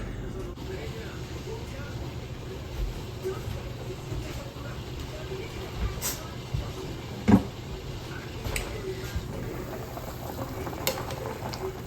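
A pot of marota cooks on the stove with a steady low bubbling simmer, broken by a few small knocks and clinks.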